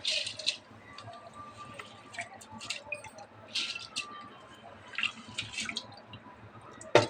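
Water poured into a pressure cooker holding rice for tomato rice, splashing and trickling in uneven bursts with brief pauses, close and fairly quiet.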